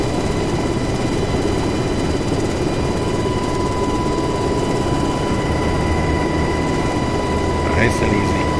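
Aircraft engine in DCS World on the Persian Gulf map, a steady broadband rotor-like drone held at constant level throughout a landing approach, with a faint voice talking over it near the end.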